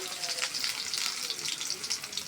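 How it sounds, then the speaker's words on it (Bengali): Chopped onions frying in hot oil in a wok with cardamom, cinnamon and bay leaf, a steady bright sizzle heard close and fairly loud, with a faint stir now and then. "পেঁয়াজগুলো আমি একটু ভেজে নিব, সেদ্ধ হওয়ার আগ পর্যন্ত"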